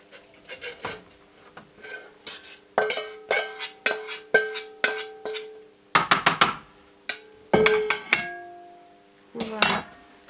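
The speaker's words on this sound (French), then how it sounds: "on va mettre le mélange bicarbonate et eau dans le bac détergent" Baking soda and water mixture poured and scraped into a washing machine's detergent tray, a series of close plastic knocks, rubs and clatters with bright ringing clinks, irregular and fairly loud.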